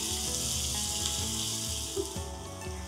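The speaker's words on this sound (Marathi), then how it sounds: "मध्यम आचेवर कांदा हलकासा सोनेरी रंग येईपर्यंत मस्तपैकी परतून घ्यायचा आहे" Chopped onion sautéing in a pan over medium heat, a continuous hissing sizzle with faint clinks of a spoon stirring, close and steady with no voices.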